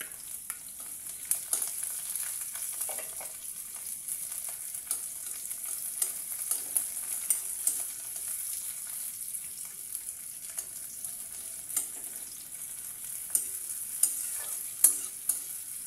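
Chopped onions frying in a pan after bay leaf goes in, a continuous bright sizzle with scattered spatters and occasional stirring scrapes, steady and close throughout with no voices.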